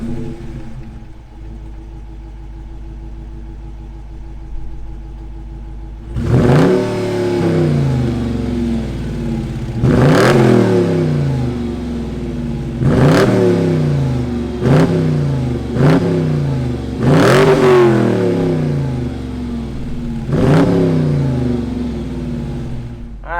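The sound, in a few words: Hemi V8 engine revving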